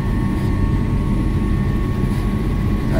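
Deep, steady rumble and vibration from a helicopter flight simulator built by KAI for the forest aviation service, a dense continuous roar with no breaks and no voices over it.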